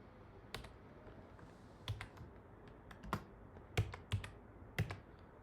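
Python code being typed on a computer keyboard in a quiet room: scattered, faint key taps in small clusters, with no talking.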